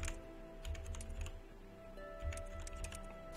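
Computer keyboard typing during the Epistory typing adventure game, quick bursts of close, crisp key clicks in an uneven rhythm with a steady background hum and faint game tones.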